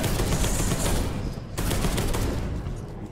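Dense, continuous gunfire from the video game Space Hulk Deathwing, a roaring wall of overlapping shots with a brief dip midway, loud and close with no clear gaps.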